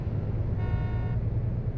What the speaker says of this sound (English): He's still honking back there.